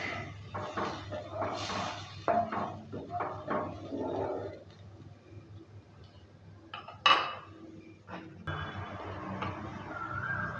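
Lentil and soybean curry being stirred in a pot after warm water goes in, with scraping and clinking of a spoon against the metal in irregular bursts, fairly close, no talk.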